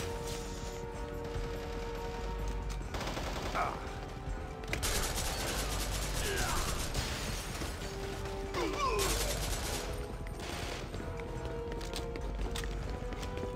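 Gunfire in the video game Devil's Third, with bursts of rapid shots and sharp cracks over a constant game soundtrack and ambience, some volleys louder and closer than others.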